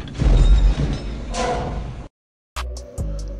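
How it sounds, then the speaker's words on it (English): AT-AT walker effect from Star Wars made from a squeaky dumpster, a loud grinding, creaking metallic movement that stops abruptly, then after a short silence returns with squeals and heavy thuds. "the sound of the ponderous, terrifying Imperial vehicle joints walking through the hot snow"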